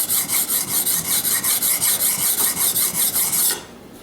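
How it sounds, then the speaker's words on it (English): A big knife has its bottom edge sharpened in quick, regular rasping strokes, about five per second, loud and close, before the scraping stops abruptly near the end. "I sharpened the very bottom edge."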